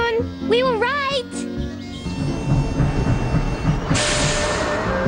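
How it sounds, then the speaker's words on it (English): Animated train ride to a pier: a voice sings briefly before rolling rail clatter and rumble take over, rhythmic clicking wheels with a rising hiss toward the end. "They took a train ride to the pier."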